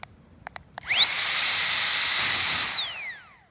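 A small electric air mattress pump whirs up after a few faint clicks, runs at a steady high-pitched drone for about two seconds, then winds down.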